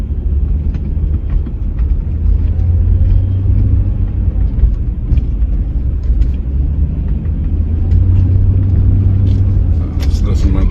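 A parked pickup truck's engine rumbles steadily at close range, a deep continuous low drone lasting the whole stretch with no speech over it.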